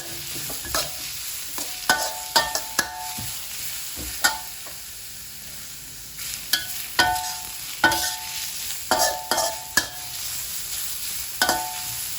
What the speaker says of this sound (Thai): เราจะผัดให้ขิงหอม แล้วก็ นิ่มเล็กน้อยนะ